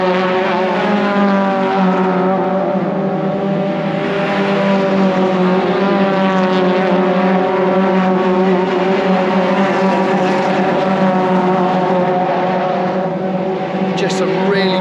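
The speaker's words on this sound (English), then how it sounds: "Watching some cars fly around the circuit, going hell-bent for leather." Mini Challenge 1.6 non-turbo race cars at Croft Circuit during a BARC race meeting, a loud continuous engine drone with rising and falling pitch as several cars pass, with someone talking over it.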